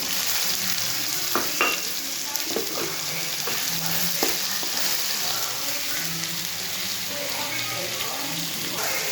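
Soybeans frying in a pan with tomato, giving a soft continuous sizzle broken by occasional spoon clinks and stirring scrapes, close and fairly steady.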